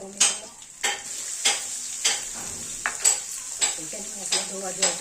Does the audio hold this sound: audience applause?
no